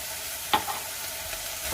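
Seasoned lasagna filling of broken-apart meat with salt, black pepper and dried Italian herbs, sizzling steadily in a pan, with one brief stir partway through, close and without speech.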